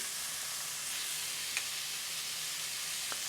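Corn sizzles steadily in a hot frying pan as chili and then ginger go in, a constant broadband hiss with a couple of faint clicks, heard close and alone.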